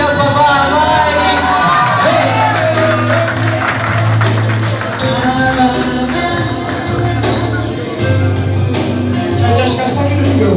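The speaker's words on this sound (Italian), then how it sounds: "Applausi al papà, vai!" A live concert crowd at a festival show in Fiumicino near Rome cheers, whoops and claps loudly and continuously, with shouting voices and amplified music or hum running beneath the noise.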